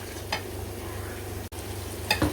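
Spinach frying in hot oil in a pan until the oil separates, a steady low frying crackle with brief stirring scrapes near the start and end, heard close and alone.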